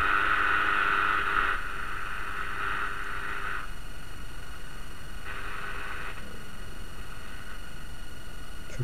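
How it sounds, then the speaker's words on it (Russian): A home-built Yunost 102 radio receiver hisses with steady static interference, with brief whistling tones and buzzy bands fading in and out over the noise; no voices. "но слышны только помехи"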